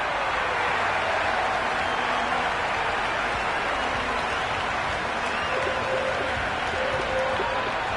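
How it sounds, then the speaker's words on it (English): A noisy cricket ground crowd in the Cricket 26 video game keeps up a steady, even roar of cheering and murmur for the whole stretch. "the crowd have joined the party. It's pretty noisy in the ground."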